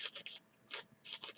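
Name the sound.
sanding a plastic vacuform kit part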